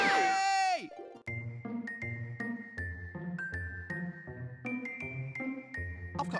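Bright, tinkly chimes from the Discworld II adventure game step through a rising and falling melodic pattern in even notes, following a short swooping burst at the start, with a clear ringing bell-like tone.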